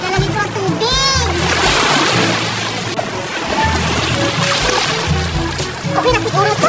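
Seawater splashes and sloshes as a water gun is filled at the shore, steady watery churning close by, while a voice and other voices talk over it.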